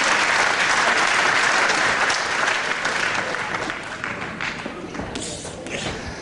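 Crowd at a wrestling match applauding, a dense wash of clapping that is loud at first and then slowly thins and fades, with scattered thumps mixed in.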